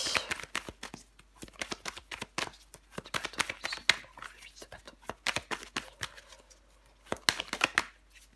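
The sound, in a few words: tarot cards being handled and laid down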